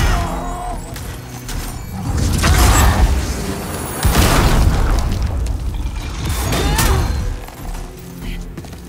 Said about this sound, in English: Okay, explosion attack.